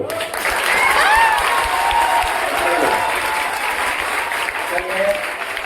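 Audience clapping at a Teachers Day celebration in a coaching centre in Barbigha, Sheikhpura, a dense sustained round of applause from a crowd, with voices and shouts audible over it throughout.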